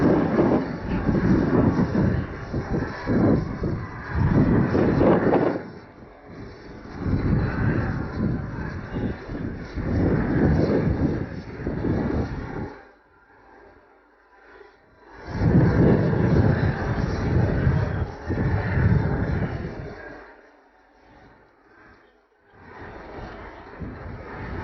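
Bolkow helicopter flying aerobatics at an air show, including the tail rotor figure; a loud, rumbling rotor and engine drone surges and fades in long passes, dropping to near quiet between runs, with no talk.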